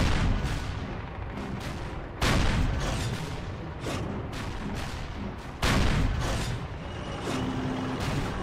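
Tank cannon fire in the Call of Duty game, heavy booming blasts repeating every second or two over a dense rumbling roar of engine and battle noise, loud and close with no talk.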